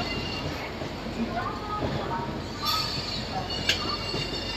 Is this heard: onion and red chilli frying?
no